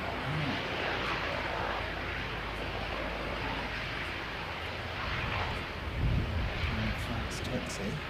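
An airplane fast-taxis with a steady, broad engine roar and rushing wind noise, close and continuous throughout with little variation.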